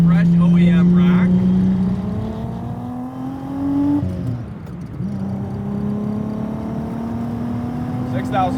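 A VR6-swapped VW Mk2 GTI hatchback revs hard under acceleration, its engine note climbing through the gears with brief shift breaks, loud and close from inside the car.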